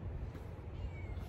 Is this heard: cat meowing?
yes